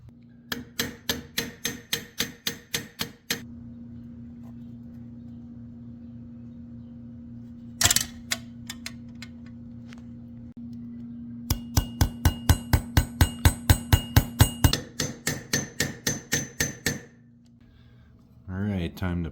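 Bursts of sharp metallic taps in quick, steady runs, vice grips used as a hammer striking small metal gem holders up close, with pauses between runs and a constant low hum underneath.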